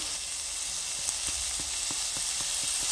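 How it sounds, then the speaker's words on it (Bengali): Potatoes and chillies fry in hot oil in a pan, giving a steady, close, bright sizzle with faint regular taps of stirring and no voices. "দিয়ে দিচ্ছি আলু আলু দিয়ে দিলাম এবার দিয়ে এটা ভেজে নেবো ভালো করে"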